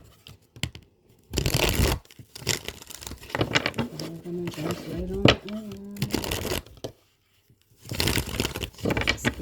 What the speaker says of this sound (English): So let's see, let's get a few more shuffles.